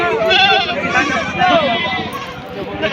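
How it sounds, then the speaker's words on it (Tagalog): Goats at a livestock auction in Padre Garcia, Batangas, bleat repeatedly in wavering, overlapping cries, loud and close, with people talking among them. "Ayan po ang mga kambing."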